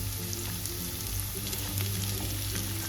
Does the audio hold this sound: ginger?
yes